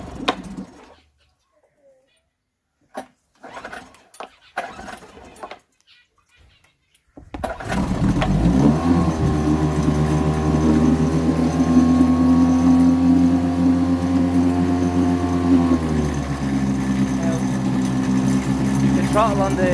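An outboard boat engine is pulled to start with the choke out, catching after a few quiet moments of talk and brief handling noises, then running steadily and loudly with a droning hum that rises slightly in pitch midway.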